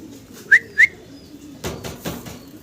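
Two Damascene pigeons of black checker colour, both male, with two short, bright whistling chirps followed by soft fluttering and shuffling sounds nearby, no talk.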